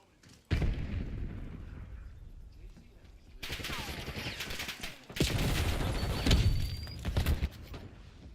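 Frag grenade explosions and gunfire in a shooter video game, several loud booming bursts with rapid shots, the densest blasts late in the clip, with faint talk underneath.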